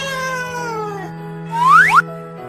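A cartoon cat in an animated Christmas scene meows: a long, drawn-out tone fades first, then a sharp rising meow and a quick second chirp follow in a quiet setting.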